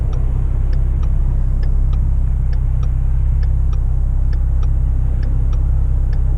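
An Oshkosh M1070 army heavy-haul truck on a street in Cambridge, Ontario, rumbles loud and close with a deep steady diesel drone, a regular ticking clatter repeating over it, and no voices.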